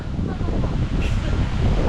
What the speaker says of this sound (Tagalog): Malakas, palakas ng palakas ang hangin.